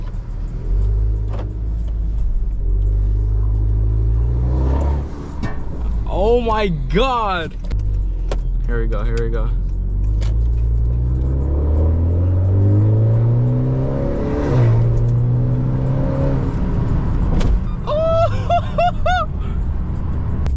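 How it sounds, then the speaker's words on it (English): A turbocharged 2.0-litre Honda Accord Sport engine with an aftermarket exhaust revs repeatedly, deep rumbling rising and falling, close by, while excited voices talk over it. "exhaust is installed, bro. Let's listen."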